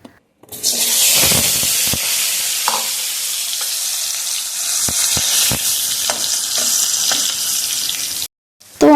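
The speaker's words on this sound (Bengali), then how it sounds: "এবার কড়াইতে আলুগুলোকে ভেজে নেব হালকা করে" Potatoes fry lightly in hot oil in a kadai, a steady loud sizzle with scattered clicks and scrapes of stirring, alone without talk.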